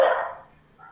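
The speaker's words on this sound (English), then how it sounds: "Oh, sorry for my dogs." A single loud, close dog bark cuts in sharply and decays quickly during an online finance lesson at home.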